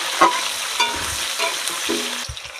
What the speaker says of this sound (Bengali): এবার কয়েক পিস আলু দেবো এবার আলুটা একটু ভালো করে ভেজে নেবো